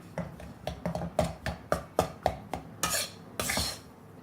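A utensil scrapes and knocks repeatedly against a pan while stirring spice powder over high heat in a steady rhythm, with a couple of longer scraping sweeps near the end.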